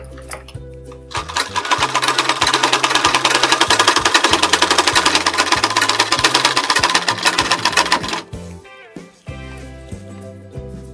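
A sewing machine stitches a blouse in a loud, fast, steady mechanical run that stops and restarts, with soft handling noises during the pauses.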